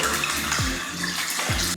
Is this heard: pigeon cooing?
no